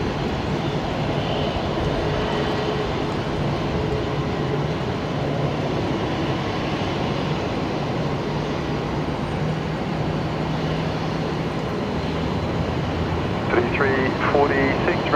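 An aircraft landing on runway 19 right at Brisbane Airport, heard as a steady, loud broadband roar that holds for the whole stretch with little change in level.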